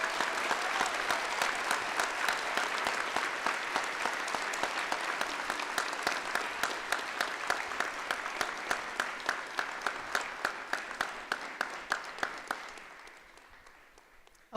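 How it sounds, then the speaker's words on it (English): Ceremony crowd gives a long round of applause for youth honorees, dense clapping that gradually turns into rhythmic, unison claps, then thins and fades out near the end. "Please give a big round of applause for these incredible honorees"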